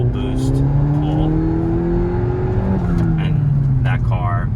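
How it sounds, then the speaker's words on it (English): A Dinan-tuned BMW F80 M3 makes a full-boost, wide-open-throttle pull, its engine note climbing loudly and steadily, dropping briefly at a shift near the middle before rising again, heard from inside the car. "So right now, as you see, I'm gonna do a full boost pull"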